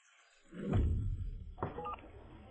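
Telephone dialing tones sound in a short sequence of a few beeps at moderate level over a faint background hum, with no talking.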